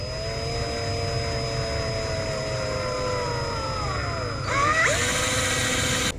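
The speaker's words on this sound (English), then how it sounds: "we'll just get the drill, go through our previous holes" A power drill bores through existing holes in a Kydex holster, its motor whining steadily close up before winding down and then giving way to a rougher burst.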